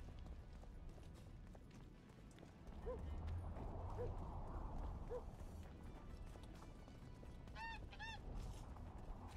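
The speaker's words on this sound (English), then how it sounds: "Goose. Thick as corn stalks." A goose in the video game The Witcher 2 gives several short honks, first three single calls and then a quicker pair. They sit faintly over a busy, noisy game background.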